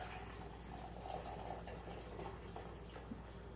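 Water pours into a measuring cup in a faint, continuous trickle with small splashing gurgles, close by and quiet, without talk.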